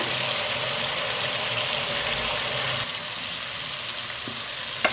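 Cumin seeds sizzle in hot oil while cooking a Hyderabad-style vegetable kurma, a steady, dense crackle that holds throughout and is joined by a brief utensil clink near the end.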